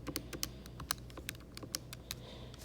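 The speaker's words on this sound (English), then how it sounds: "This is just type it into the calculator." Quick taps on a calculator keypad come as a fast irregular series of light, close clicks, faint and with no talk.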